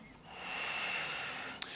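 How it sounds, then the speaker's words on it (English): One long, steady breath during a rest in a power yoga class, a soft airy exhale held near the mic that ends with a brief sharp sniff. "Just taking a few breaths."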